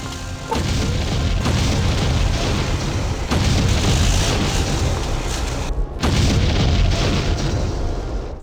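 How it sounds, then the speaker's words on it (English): Panzerfaust blasts and explosions in the 1999 WW2 shooter game Mortyr, heavy booming rumbles with sharp cracks, one blast after another with brief gaps and a sudden cut near the end. "Luckily nearby is a handy-dandy anti-tank Panzerfaust."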